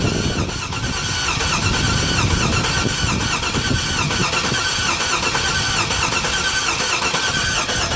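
A 5.3 V8 truck engine, running with new intake gaskets, cranks and then runs roughly with a squealing edge, loud and steady throughout with no talking.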